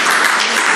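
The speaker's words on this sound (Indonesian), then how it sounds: "Tepuk tangan. Buat ibu dokter." A short burst of dense applause from a church congregation, steady and loud throughout.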